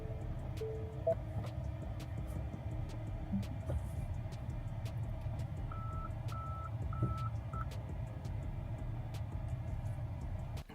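Reversing beeps from a Tesla Cybertruck shifted into reverse gear, a short run of evenly spaced electronic tones over a steady low engine-bay rumble and hum, fairly quiet with no talking.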